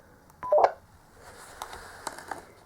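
A Kirisun S780 two-way radio sends a brief data burst heard through a scanner, a short tone chirp followed by faint static crackle and small clicks.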